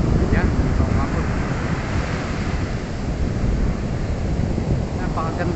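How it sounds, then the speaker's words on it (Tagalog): Strong ocean waves crash and roar continuously on the shore of a resort in Bataan, loud and close with heavy wind buffeting the microphone and no pauses between surges. "Wala, napakalakas talaga ng alon."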